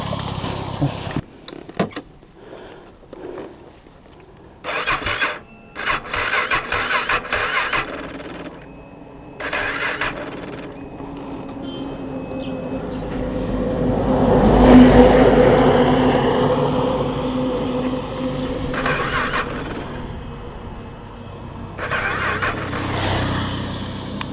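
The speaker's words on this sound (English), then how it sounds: "So I found the problem and the bike is going to start now." A KTM motorcycle engine is started after a fault is fixed. Intermittent clatter gives way to the engine catching and building to a louder, steadier run midway, then settling.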